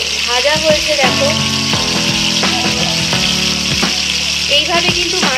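Fish pieces frying in hot oil give a loud, steady sizzle throughout, with clinks of a utensil and other kitchen sounds mixed in.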